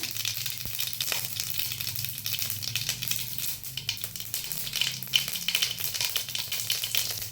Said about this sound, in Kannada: ಎಣ್ಣೆ ಕಾದ್ಮೇಲೆ ಸಾಸಿವೆ, ಸ್ವಲ್ಪ ಜೀರಿಗೆ,